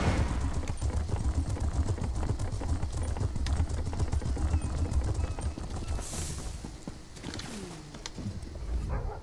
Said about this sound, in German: Hallo, ich will reiten.